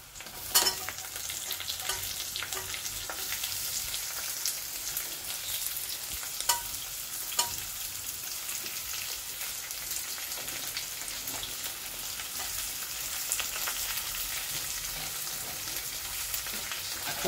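Curry leaves sizzling in hot oil in a pan while cooking pepper chicken, a continuous close crackle with scattered pops and occasional stirring clicks.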